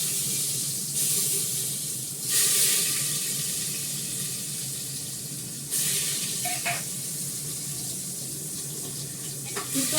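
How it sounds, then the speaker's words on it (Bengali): Potatoes frying in a pan on a gas stove in a home kitchen, a continuous bright hiss and sizzle with a few louder surges, heard up close with no talk. "আলুটা ভাজবো আমি"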